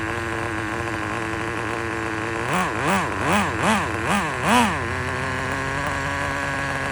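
A Nitro Rustler RC car with a 2.5 nitro engine runs with a steady, buzzy idle, then revs up and down in about five quick rising-and-falling bursts before settling back to idle.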